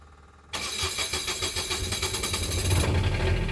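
An Onan 7500 diesel generator in a 2001 Coachmen Class A RV cranks and fires after half a second of near quiet, then settles into a loud, steady, slightly rough running rumble.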